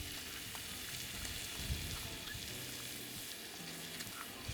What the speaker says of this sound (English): Okay, it's starting to boil.